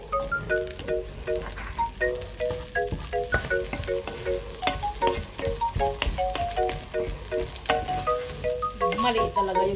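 Leftover rice fries in a pan while a utensil stirs and scrapes it, a continuous close sizzle punctuated by repeated clinks and scrapes, with background music playing.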